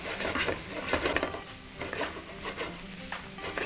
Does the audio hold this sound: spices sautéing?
yes